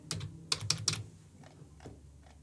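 Quick cluster of crisp keystrokes on a computer keyboard, then a few slower, softer taps with pauses, close and clear in a quiet room.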